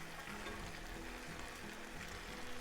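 Bottle gourd frying with tomato and onion in a pan for a spicy dudhi side dish, giving a steady, close hiss of sizzling oil throughout.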